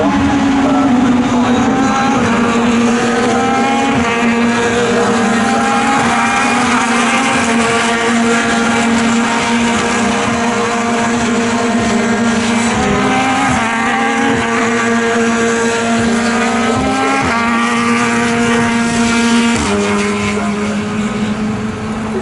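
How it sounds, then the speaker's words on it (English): BRDC British F3 Championship race cars lap Donington Park, high-pitched engines screaming continuously with rising and falling gear changes as they pass, loud and close, with wind buffeting and no talk over it. "So through goes Nazim Azman. 4 laps completed of the 12"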